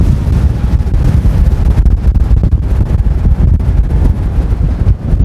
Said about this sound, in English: So the wind has died down a bit now